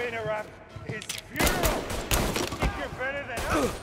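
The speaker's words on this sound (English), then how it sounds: "Someone has their Tommy gun there." A Tommy gun firing in Mafia Definitive Edition, loud rattling bursts of rapid shots mixed with other gameplay sounds and a voice talking over part of it.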